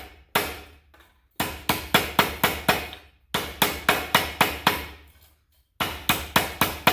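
Hammer blows shape a copper flower leaf, landing in quick bursts of sharp, ringing metallic strikes with short pauses between groups, loud and close.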